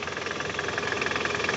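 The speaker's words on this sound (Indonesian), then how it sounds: "ini bunyi balance resap" Toyota Camry engine with an abnormal balancer shaft fault near the engine mounting, running with the gear in R: a close, steady idle carrying a rough, rhythmic knocking pulse throughout.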